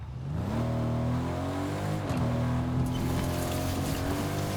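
A vehicle engine drones steadily in Fortnite during a duo match, its harmonic hum rising and shifting pitch as it drives downhill, loud and continuous throughout.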